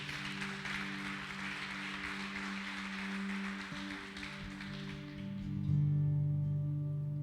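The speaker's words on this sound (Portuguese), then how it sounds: "Então dê um aplauso para Jesus nessa noite" Church congregation applauding during an evening service, a moderate wash of clapping over a sustained keyboard chord, fading as the music continues.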